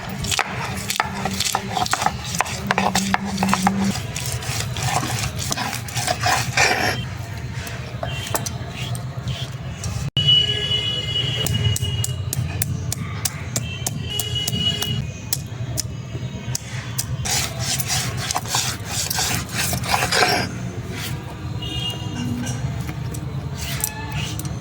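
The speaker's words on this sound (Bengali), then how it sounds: "এবার আমি আদা রসুনটা বেটে নেব।" Ginger and garlic being ground into paste by hand for a village-style chicken kosha, a rough rhythmic scraping and knocking that repeats in bursts with brief pauses, close up.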